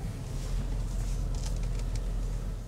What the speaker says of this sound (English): While we wait for the rain to die down,